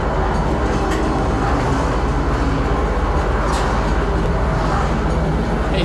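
A loud, steady rumbling roar of a moving train carriage in the video game Star Citizen, continuous and close with faint rattling throughout.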